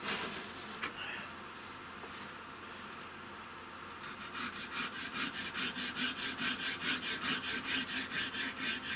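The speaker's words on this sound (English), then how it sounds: "Pull the saw." A hand saw cuts through a piece of wood in a steady back-and-forth rhythm, close by and moderately loud; the strokes turn regular after a few seconds of quieter scraping, with no talking.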